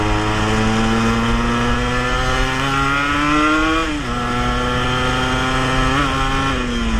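An RG Sprinter 91 motorcycle rides in third gear, its engine a loud, close, continuous buzz that rises steadily in pitch, dips briefly as the throttle eases and then holds.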